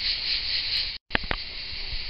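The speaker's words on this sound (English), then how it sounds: "that sound you hear constantly is les cigales, the cicadas, which haven't stopped since we've been here" Cicadas in southern France near an olive grove keep up a constant, shrill, high buzzing that drops out for a split second, then resumes, with a couple of brief clicks and knocks nearby and no talking.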